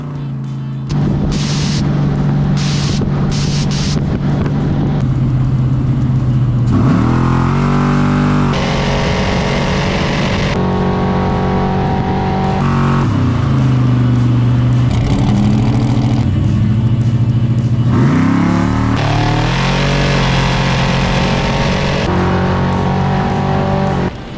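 A street van accelerates hard on nitrous, its engine roaring loud and close through repeated rising revs and gear changes, with brief tire squeal, no talk.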